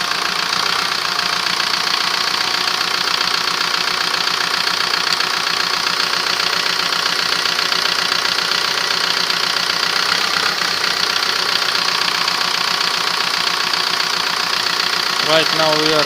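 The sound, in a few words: Audi A3 1.9 TDI diesel engine idling, sound changing with fuel adjustment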